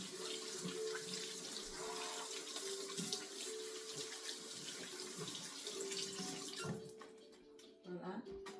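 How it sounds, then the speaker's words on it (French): Water runs from a tap into a sink during handwashing in a home kitchen while making banana puff puff, a steady close gushing splash that stops near the end. A faint background voice can be heard. "Je vais juste me laver les mains."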